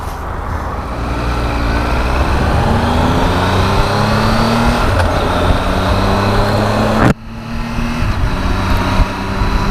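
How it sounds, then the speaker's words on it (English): A 2018 Triumph Tiger 1200 motorcycle accelerates with a steady rising engine drone and shifts up through the gears, one clear break near the end where the tone drops, heard close and loud with no voices. "Out of habit there, I changed up gear using the clutch to start with"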